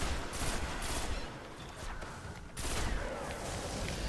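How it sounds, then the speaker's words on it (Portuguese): Gunfire rattles in a steady, dense stream of shots from the video game Destiny, with a brief lull before it resumes. "Gastando bala à toa."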